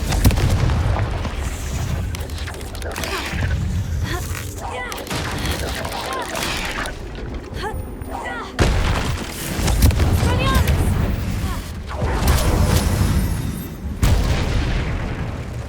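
Confringo blasting spell from Hogwarts Legacy: repeated booming explosions and crackling bursts in quick succession amid combat noise, loud and close throughout.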